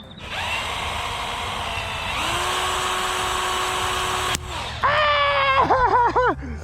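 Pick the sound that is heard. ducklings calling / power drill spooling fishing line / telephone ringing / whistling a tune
power drill spooling fishing line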